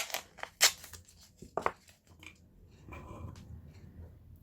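Metal shears snip through two teardrop shapes of sheet metal taped together with masking tape, giving a few sharp, close cuts with small scraping handling noises between them.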